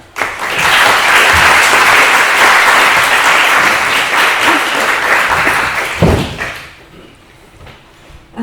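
A lecture audience applauds a visiting poet, loud and sustained, with dense clapping that swells, holds, then fades out. A single thump comes near the end.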